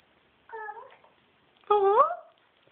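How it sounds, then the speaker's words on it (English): A house cat meows twice up close, a short mew followed by a louder, longer drawn-out meow, with quiet between the calls. "Come pet the kitty."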